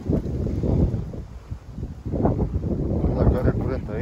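Wind blows across the microphone on a horse farm, a rough, gusting rumble that rises and falls, with talk nearby.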